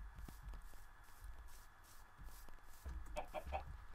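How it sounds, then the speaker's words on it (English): Minecraft chickens cluck in short, repeated bursts, with a few clearer clucks near the end, over the game's steady background sound and no speech. "now let's go and get this chicken"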